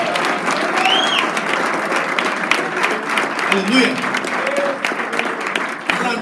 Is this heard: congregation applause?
yes